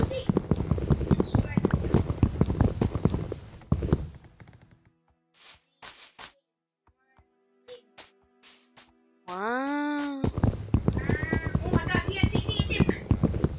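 Horse hooves clip-clop in a Minecraft game, a short run of sharp, evenly spaced hoof clicks, joined by a brief rising-and-falling whinny, set between stretches of excited voices chatting.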